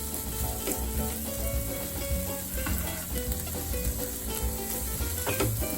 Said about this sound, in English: now we will be adding the onion, garlic and the ginger and keep stirring it